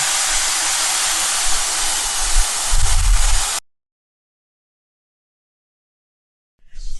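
Dog grooming blaster dryer blowing through fur, a loud broadband airy roar with a rumbling gust near the end, then abrupt silence before the blast briefly resumes.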